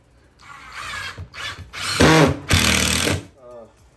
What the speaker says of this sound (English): So I recommend a little pilot hole.